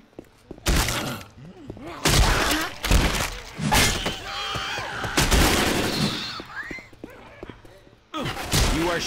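Gunfire in the Left 4 Dead video game, sharp separate bursts of shots and impacts with pauses between them, under people talking.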